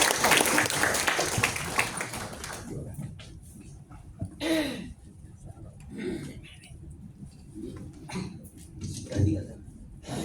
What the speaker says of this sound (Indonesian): Tepuk tangan semua untuk Bapak.